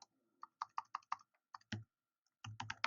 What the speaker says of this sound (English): you'll have to forgive my typing. It's awful.